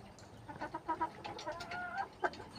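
A few backyard chickens on a small rain-damaged farm cluck in short, irregular bursts nearby, fairly faint with soft background noise.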